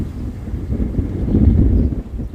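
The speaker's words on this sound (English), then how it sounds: "But it is just too windy out here." Strong wind buffeting the microphone at a campsite, a loud, low, rumbling roar that surges and gusts unevenly throughout.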